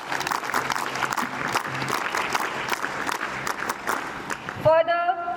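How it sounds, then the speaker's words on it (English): Audience applause at a school investiture ceremony, a dense sustained clatter of many hands clapping that keeps up for about five seconds before a voice begins to speak at the very end. "Please give a huge round of applause."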